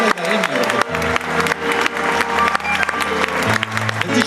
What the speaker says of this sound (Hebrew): אתם הקהל, מחיאות כפיים